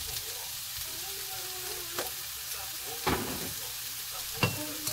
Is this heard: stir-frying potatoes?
yes